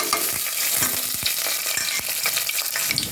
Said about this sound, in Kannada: ಇದು ಕಾಯ್ದಿದೆ ಫ್ರೆಂಡ್ಸ್. ಪಲಾವ್ ಎಲೆ ಎಲ್ಲ ಸೇರಿಸೋಣ.